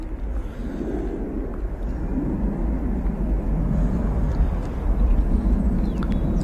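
Turkish Airlines flight 1995 passes at Manchester Airport. A loud, continuous low rumble of jet engine noise builds slowly, with wind buffeting on the microphone and no voices.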